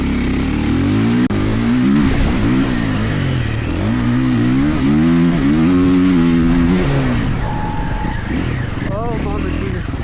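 A Triumph off-road motorcycle's engine revs hard while riding on a dirt course, rising and falling in repeated surges under loud wind and road noise, with a short high whine near the end.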